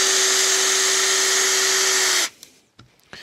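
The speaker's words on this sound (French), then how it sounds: "Voyons maintenant ce que donne cette machine en commençant par du vissage, notamment une vis de 4 mm de diamètre avec une empreinte Torx" A Ryobi RDD18 cordless drill driver whines steadily as it drives a 4 mm Torx screw, a loud constant motor tone that cuts off abruptly, followed by a few faint clicks and handling sounds.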